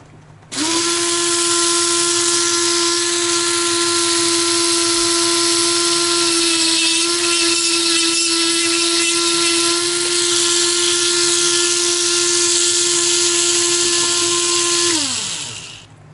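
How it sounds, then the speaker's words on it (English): A small grinder works on lead football head jigs, spinning up to a loud steady whine with hiss over it, holding for about fourteen seconds, then winding down. "it works just fine as a little grinder"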